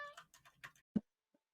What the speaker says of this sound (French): chat qui m'embête